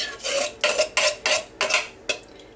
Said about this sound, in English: all you do is you mix all your ingredients together